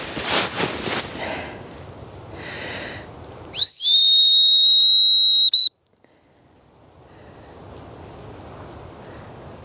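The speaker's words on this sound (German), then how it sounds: "Jetzt kriegt sie einmal den Suchenpfiff ohne körpersprachliche Hilfestellung, nur den Pfiff." A single dog-training search whistle blown once outdoors in tall vegetation, a loud, steady high tone lasting about two seconds, with faint rustling before and after.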